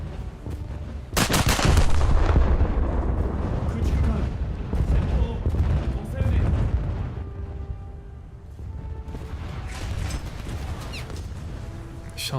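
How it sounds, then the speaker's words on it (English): Naval shells fire in a battleship video game, with a sharp heavy boom followed by rumbling artillery and blast noise that fades over several seconds, while a voice talks over it. "Shells are still going, hitting them way too high in the ship."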